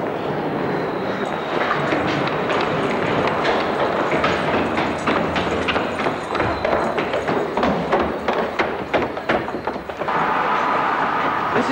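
London Underground train running, a loud continuous rumble with rapid rhythmic clatter of wheels over rail joints, close by and steady throughout.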